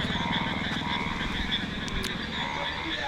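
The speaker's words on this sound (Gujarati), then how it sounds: "દેડકાનો પણ અવાજ આવી રહ્યો છે" Many frogs croak in a dense, continuous chorus after 3 inches of heavy rain in a village, rhythmic pulsing calls layered together at moderate distance.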